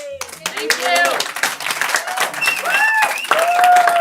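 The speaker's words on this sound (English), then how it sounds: "I know you like to applaud for each other, and it's really not appropriate." Audience members at a school board meeting burst into loud applause, with a quick patter of clapping hands close by and voices calling out over it.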